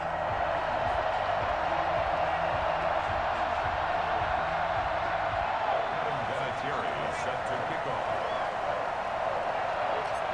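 Sold-out stadium crowd in Madden NFL 21 as the Patriots face the New York Jets, a loud, steady roar of cheering that fills the whole stretch with no break, and a low thumping beat under the first half.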